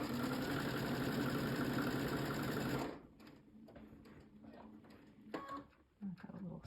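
A sewing machine stitches a quilt seam in a loud, fast, steady whir for about three seconds, then stops, leaving quiet handling and fabric rustles.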